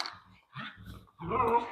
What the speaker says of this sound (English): I said no barking.